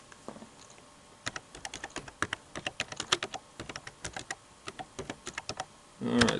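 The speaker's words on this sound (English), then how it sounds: "so we typed in Isante Worldwide" Rapid, irregular keystrokes on a computer keyboard as a search phrase is typed, crisp close clicks in bursts with short pauses, ending in a louder rustle.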